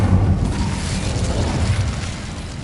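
A fiery Incendio spell blast in the Hogwarts Legacy video game: a deep, booming rumble that bursts in loud and holds as a heavy roar for a few seconds.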